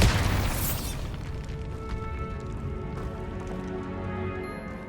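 A Bombarda spell explosion in a Hogwarts wizarding video game: one loud booming blast at the start that decays into a long rumbling, crackling tail, with no talking.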